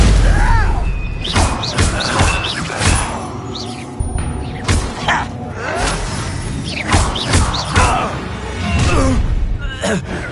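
A Confringo blast spell exploding in the game Hogwarts Legacy, set among a loud run of booms, thuds and whooshes during combat, with voices shouting over the impacts.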